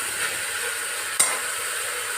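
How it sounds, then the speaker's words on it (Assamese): Mutton gravy frying and being stirred in a pan, a steady close sizzle with a single sharp scrape of the utensil against the pan midway. "এইটো ভাজি থাকিম এতিয়া"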